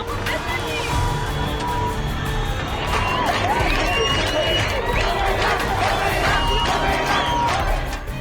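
A dense, loud crowd at an anti-hijab protest in Iran screams and shouts continuously, many voices blending into a steady roar.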